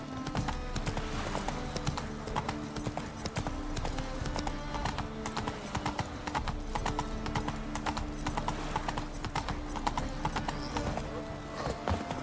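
Roach the horse's hoofbeats in The Witcher 3, a steady clip-clop rhythm running throughout over a dense bed of game music and ambience, with the occasional faint whinny.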